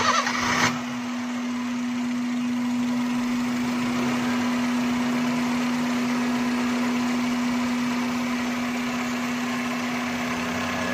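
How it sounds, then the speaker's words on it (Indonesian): Honda City automatic with a Honda VTEC engine that had been dropping rpm, started up and then idling steadily with a constant mid-pitched hum and an even tone, close and continuous, with no talking. "Kita tinggal ngidupin untuk mesinnya"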